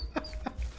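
Chickens cluck in the Ranch Simulator farm game, two or three short, close clucks in quick succession over a low background hum.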